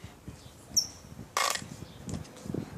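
Small birds near a fallen baby bird give a few short, thin chirps, including one sharp call midway, heard faintly outdoors over light background rustle.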